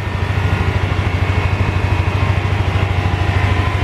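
A used Honda motorcycle engine with about 50,000 km on it idles steadily and smoothly, a loud, close, even low-pitched thrum with a regular pulsing rhythm and no breaks.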